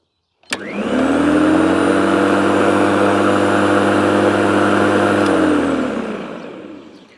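Parkside PPERM 2000 B2 electric lawn mower motor starting with a click, then running loud and steady with a strong tonal whine at high speed before spinning down at the end; no talking.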